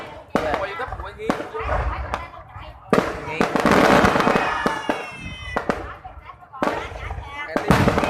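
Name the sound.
fireworks being set off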